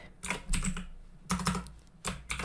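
Keystrokes on a computer keyboard come in three quick bursts of close, clicky typing with short pauses between them, and no voices.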